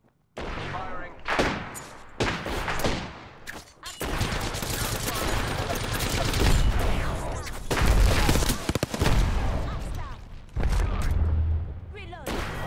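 Heavy gunfire in Apex Legends, sustained loud automatic bursts and shots nearly continuous across the stretch with short gaps, with voices speaking in between.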